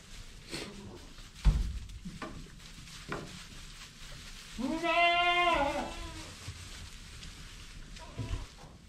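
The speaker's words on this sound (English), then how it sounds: "I'm gonna play some clips of these baby goats playing around a little bit in this barn" A baby goat bleats once in a drawn-out, wavering cry amid faint rustling and shuffling in a quiet barn.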